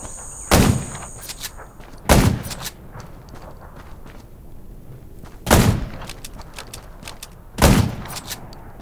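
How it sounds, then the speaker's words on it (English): Four loud, sharp gunshots in the zombie survival game Undawn ring out at uneven intervals over a quiet background hum, each one a sudden crack with a short tail. "Gunshots will attract more zombies."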